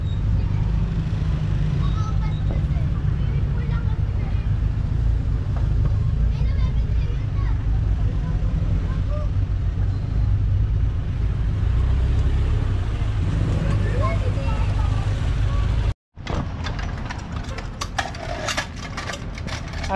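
Traffic on Adriatico Street in Malate, Manila: a constant low rumble of idling and passing cars and engines close by, broken by a sudden brief dropout near the end before the noise returns.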